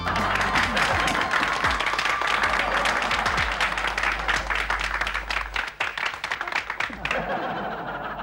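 Audience applause for an award presentation in a comedy TV show, loud and sustained clapping from a crowd with chuckling mixed in, beneath a low steady hum, tapering near the end.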